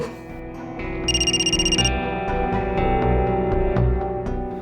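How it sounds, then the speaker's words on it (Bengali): A phone rings with an incoming call, a melodic electronic ringtone playing over a dense music bed in a Bengali TV serial, with a bright trilling burst near the start and no speech. "নিশার বাবা ফোন করছে"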